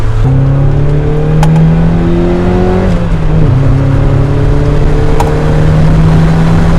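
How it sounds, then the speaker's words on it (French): A 2003 Mazda MX-5 NB convertible with its 1.8-litre DOHC engine drones steadily from the exhaust, pitch climbing through gears with brief dips at shifts, loud and continuous from inside the moving car with wind and road noise. "J'aime bien le son de l'échappement."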